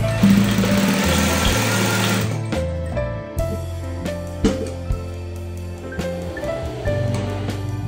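Sewing machine stitching a fabric pocket on children's trousers, a close, steady motorised whir that stops and restarts in short bursts with intermittent clicks.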